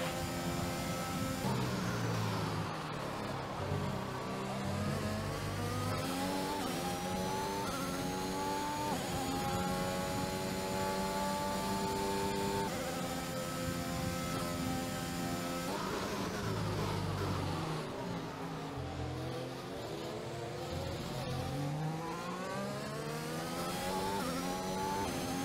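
A Formula 1 car races at the Austrian circuit in F1 2021, its high engine note climbing repeatedly through the gears, then dropping under braking before rising again in a loud, continuous run lasting about twenty-five seconds.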